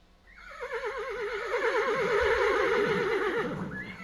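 A horse whinnies loudly in one long, wavering neigh that rises, trembles and trails off, close by and alone, with a faint thud of a hoof near the end.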